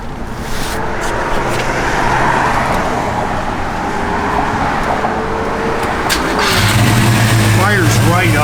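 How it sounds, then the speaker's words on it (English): A 1969 Chevrolet Chevelle SS V8 fires up and settles into a steady, smooth idle, its loud, close engine rumble continuous throughout, with a brief change in tone near the end. "Fires right up. Just runs smooth as can be."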